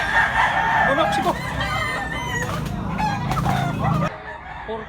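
Roosters crow repeatedly at a busy chicken auction market, harmonic calls rising and falling over clucking birds and a dense murmur of crowd noise, close and fairly loud, ending abruptly.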